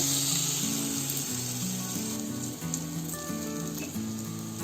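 Bottle gourd snack frying in oil over a low gas flame, a steady close hiss with soft crackle running throughout, with background music-like tones layered underneath.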